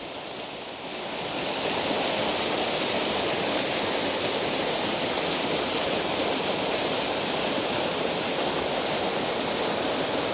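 Crystal-clear mountain stream water pours over rocks in a steady, full rush close by, swelling up in the first second or so and then holding a constant roar with no voices.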